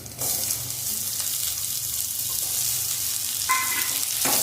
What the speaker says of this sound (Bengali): পেঁয়াজটা একটু ভাজা করে নেব